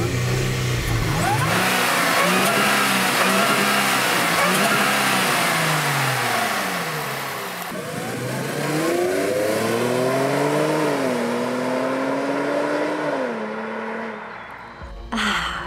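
A 2018 Range Rover Velar SUV engine revs up and down repeatedly, rising and falling in pitch, loud and close, then settles and fades near the end.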